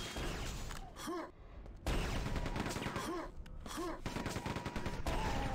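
Rapid weapon fire rings out in a Quake 2 grand-final match, bursts of shots overlapping with grunts and effects in a dense, continuous game mix with short gaps.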